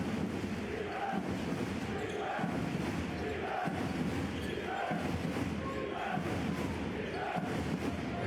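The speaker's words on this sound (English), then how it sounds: "This home crowd now just spurts into a bit of energy." Home crowd at a professional basketball game in Bayreuth rousing into cheering, a continuous loud roar with rhythmic pulses and ball bounces, under a commentator's voice.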